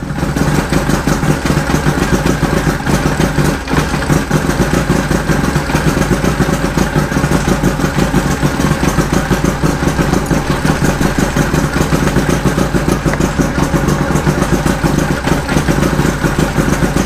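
Mercury Thunderbolt 500 50 hp outboard engine on its first run after restoration, a steady, loud, close mid-pitched running drone with a fine rapid clatter, continuous and unchanging throughout with no talk.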